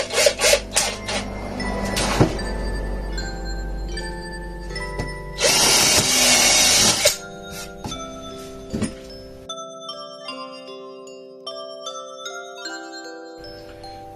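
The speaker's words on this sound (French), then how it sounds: "donc je vais percer les trous avec un fouet de 4" A drill bores 4 mm screw holes into wooden planks, with one sustained loud whirring burst in the middle and scattered tonal notes and knocks before and after.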